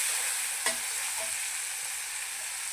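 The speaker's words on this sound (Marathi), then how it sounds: "नंतर मग टमॅटो टाकायचा त्याला पण मस्तपैकी परतून घ्यायचं" Tomato sautés in a pan for potato pulao, a steady, fairly quiet sizzle with a couple of brief spoon knocks early on.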